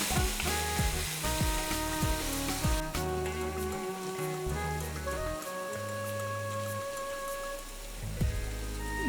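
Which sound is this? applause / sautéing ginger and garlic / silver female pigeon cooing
sautéing ginger and garlic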